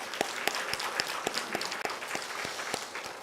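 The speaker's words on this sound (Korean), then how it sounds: "이 찬양을 들으신 하나님께 한번 영광의 박수를 올리겠습니다" A church congregation applauds during a Sunday morning worship service, a loose patter of claps spread across a large room at moderate level, steady and unbroken throughout.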